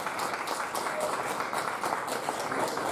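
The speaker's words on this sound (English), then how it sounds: "Can we get another round of applause for Dwight?" Audience applause at a keynote event, a steady wash of many hands clapping that fills the whole stretch at moderate loudness without a break.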